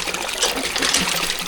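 A forceful spray of water from a hose washing a motorcycle hisses and splashes steadily, close and loud, with no voices.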